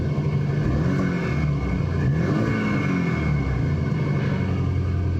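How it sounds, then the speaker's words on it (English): A Volkswagen Golf R Black Edition engine revs and growls with a low, steady rumble, its pitch rising and falling as the throttle is worked; no voices. "Give it a little bit of gas."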